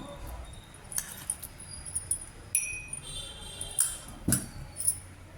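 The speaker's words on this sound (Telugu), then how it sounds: "ఐస్ క్యూబ్స్ వేసుకోవాలండి." Ice cubes drop into a glass for masala fennel sharbat, giving several bright, sharp clinks at irregular intervals, close and fairly loud against a quiet kitchen background.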